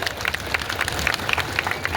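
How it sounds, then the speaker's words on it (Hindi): Applause for the army at a political rally, a crowd clapping steadily with dense overlapping claps, moderately loud and continuous for the whole stretch. "गर्व है हमारी सेना पे, गर्व है, ताली बजाओ सेना के"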